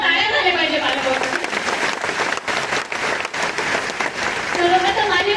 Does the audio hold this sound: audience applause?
yes